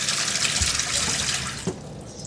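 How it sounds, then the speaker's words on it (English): Water gushes steadily from a running tap into a sink, a continuous close rushing flow with a faint low hum from the water pump beneath and a brief knock near the end. "now I'm just going to turn the tap on to see if you can hear the water pump"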